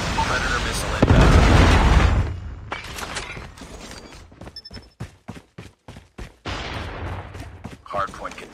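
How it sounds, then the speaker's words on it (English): A Call of Duty match plays with a loud, booming explosion blast early on. It is followed by rapid bursts of gunfire and game announcer voice lines. "Predator missile inbound."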